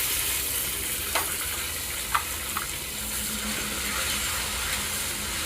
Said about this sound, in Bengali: এবার দিয়ে দেবো গোটা জিরে। এটা হালকা ভেজে নেবো। এবার আমরা টমেটোটা দিয়ে দেবো।